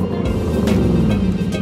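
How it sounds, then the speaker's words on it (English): A 4-litre V8 in an Audi RS5 is revved at a charity car event. The engine is loud and close, with a steady throaty roar and one brief swell in the middle. "Let's see if the owner can give us a few revs."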